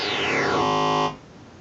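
A square wave oscillator on a Korg King Korg synthesizer plays one sustained, buzzy note with a filter sweep closing downward, holding steady, then cutting off abruptly into silence.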